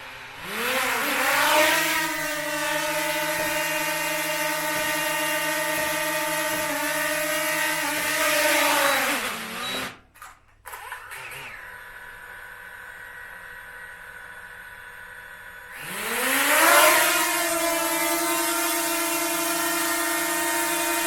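A DJI Mini 2 drone whines steadily with a bright buzzing propeller tone that dips and rises in pitch, cuts out briefly midway, then a quieter hum follows before the loud whine returns, with no talking.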